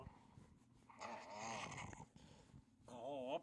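A dog makes happy grunting, growly vocalizations in two bursts, the second warbling and rising, close and moderately loud with soft breathing between.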